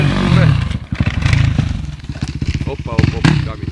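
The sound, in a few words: off-road motorcycle engine revving at a mine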